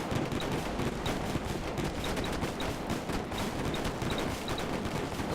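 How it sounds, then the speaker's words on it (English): Dragon breath blast weapon firing from an airship in the game Airships, with a dense, continuous roaring barrage of rapid crackling bursts, loud and unbroken throughout. "the opposing ship is caught in our blast of dragon breath"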